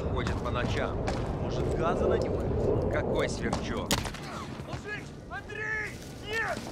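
Gunfire in a Call of Duty firefight crackles in bursts beneath shouting voices, with a loud sharp shot near the middle and continued battle noise and talk afterward.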